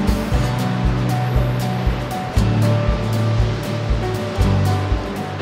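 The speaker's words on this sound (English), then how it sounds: "There's waves hitting the rocks pretty good down here." Ocean surf pounds the rocks below Heceta Lighthouse on the Oregon coast near Yachats, a loud, continuous roar with repeated heavy crashes breaking through every second or so.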